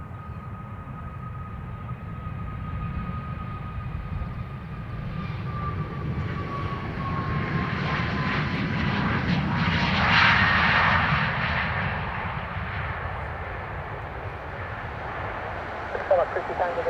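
Ryanair jet airliner taking off from Dublin Airport bound for Stansted, a broad roar swelling to a peak midway then slowly fading into the distance, heard over a continuous low rumble.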